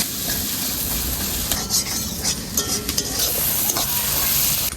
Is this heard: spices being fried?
yes